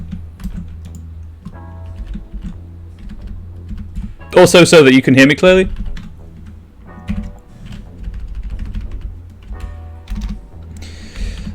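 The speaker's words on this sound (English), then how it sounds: "I'm hoping the music kind of covers the keystrokes as well" Keystrokes clatter on a computer keyboard in quick irregular bursts under background music while a person talks, with a brief louder tonal passage midway.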